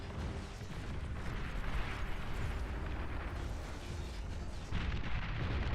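An LLT turret fires on a torpedo launcher in the Beyond All Reason video game. Heavy, rumbling blasts and booms overlap into a dense, continuous roar with swelling explosive impacts.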